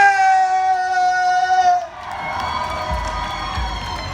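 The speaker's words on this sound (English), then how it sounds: "Give my man a round of applause for Dr. Umar Ifa Tunde Johnson" A crowd at a rally-style gathering claps and cheers after a sustained tone fades, the mix of clapping and shouts continuing at a moderate, steady level, with voices mixed in.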